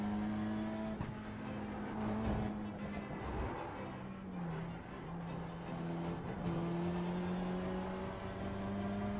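A race car drives in iRacing with a steady engine whine whose pitch dips and climbs through gear changes and corners, close and continuous, with a few brief bumps and thuds along the way.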